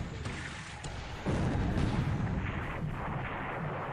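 Naval guns fire in the War in the Pacific strategy game as a deep booming roar that surges midway and then rumbles on steadily, heavy and low with no voices heard.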